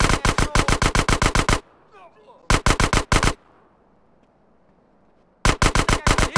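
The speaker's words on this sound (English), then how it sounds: "That was a sniper bullet!" Rapid bursts of automatic gunfire from Grand Theft Auto: San Andreas, three loud rattling volleys separated by quieter stretches of game ambience.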